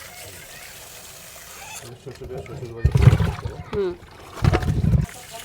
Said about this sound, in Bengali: তো এই আমগুলা এখন আমি ধুয়ে নিব, একদম ভালো করে ধুয়ে নিব